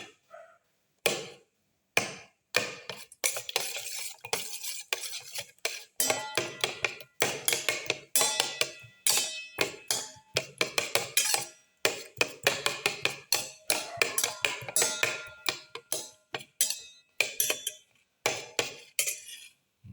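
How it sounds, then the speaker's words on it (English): A utensil mixing and crushing tomato pieces in a pan while cooking an omelette, producing many sharp, irregular clinks and knocks in quick bursts, fairly close and clear with short pauses between strokes. "Crush the tomato pieces by mixing."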